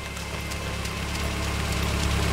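A car engine idles in the video game DayZ with a steady, loud, low rumbling drone that holds unchanged and close throughout, and no voices are heard over it.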